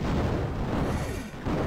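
Dense, rumbling missile fire and explosions from the shooter game Raptor: Call of the Shadows, a continuous loud booming wash with crackling bursts throughout.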